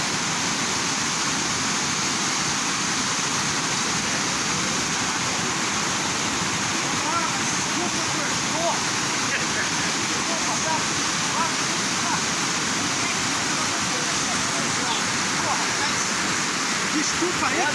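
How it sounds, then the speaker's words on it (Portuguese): A large waterfall at Lumiar in Nova Friburgo, Brazil, roars as a steady broadband rush of falling water, loud and continuous throughout, with a voice talking over it. "Olha o tamanho da cachoeira aqui"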